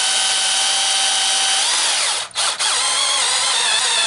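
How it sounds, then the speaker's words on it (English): A power drill whines steadily at close range while drilling out the primer of a spent shotgun shell, its pitch dipping briefly in a couple of quick stutters. "we're going to just drill the primer out"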